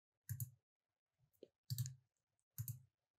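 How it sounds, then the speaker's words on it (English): Computer mouse button clicks while uninstalling apps on Windows 11, three crisp close clicks with short pauses between and a softer faint click in the middle, alone with no talk. "we need to click on the right mouse button and click uninstall"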